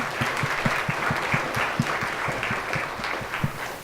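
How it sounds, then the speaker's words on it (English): A gala audience claps in sustained, even applause that fills the room at close range, steady throughout with no talking. "Give yourselves a round of applause."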